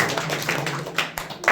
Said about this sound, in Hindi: चलिए अच्छा ताली बजाइए भाई।